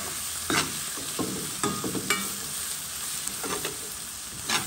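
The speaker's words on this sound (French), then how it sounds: "Et puis, je tourne un peu. Je mélange un peu. Je mélange tout ça." A spoon stirs fish curry in a cooking pot with a steady low sizzle underneath and irregular scraping strokes, close by, with no voices.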